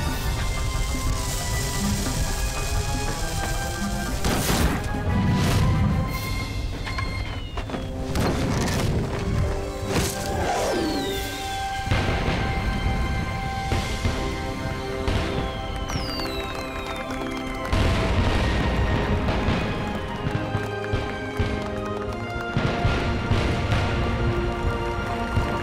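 Fireworks catch fire and burst in a chaotic, continuous series of booms, crashes and crackles, loud and dense throughout, with repeated sharp bangs over a constant roaring wash of noise in a fantasy adventure film scene.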